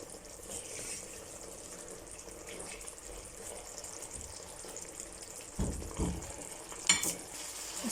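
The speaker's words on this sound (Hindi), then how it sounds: "इसको अच्छी तरह भून लेंगे जी, पका लेंगे हम इसको कलेजी के साथ।" Chicken liver with green garlic and coriander fries in a pan, a soft continuous sizzle with occasional stirring scrapes and a few louder clinks toward the end; no talking.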